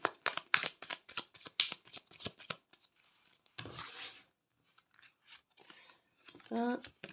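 Oracle cards handled and shuffled at close range, quick rustling riffles and slaps in bursts with pauses between, a brief voice heard near the end.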